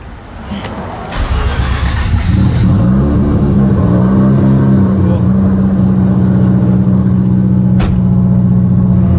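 A Mazda RX-7 rotary engine starts on a dyno and settles into a loud, steady idle, a low throbbing hum that runs continuously and close by.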